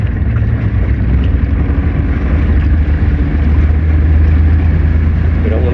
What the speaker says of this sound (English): So there's a boat coming, so let's ease on across there.